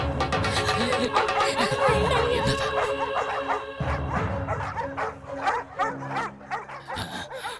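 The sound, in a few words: dog barking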